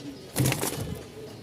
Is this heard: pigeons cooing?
yes